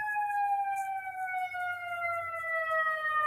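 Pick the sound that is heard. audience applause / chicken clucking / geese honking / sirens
sirens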